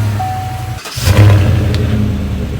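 First start of a 2016 Chevrolet Silverado Special Edition engine after a rebuild: a steady whirring hum cuts out, then the engine catches with a loud rising surge and settles into a strong, close idle.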